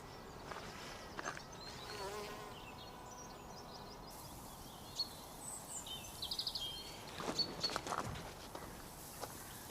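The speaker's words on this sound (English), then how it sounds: "providing for the butterflies, the hoverflies, the bees, the wasps that are all around me." Bees, wasps and hoverflies buzz around flowering marjoram in a summer garden, a faint continuous hum with occasional closer fly-bys and light rustling.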